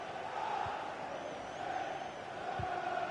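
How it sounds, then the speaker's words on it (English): Stadium crowd noise in a FIFA 20 ePremier League football match, a steady loud roar of massed voices with a swelling murmur and no breaks. "the crowd are reacting to this effort the players are putting in"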